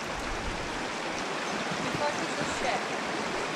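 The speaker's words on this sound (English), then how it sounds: "The trail is now the creek." Creek water rushing over a flooded trail on a small trout stream in March, a steady close broadband wash of flowing water with no talk.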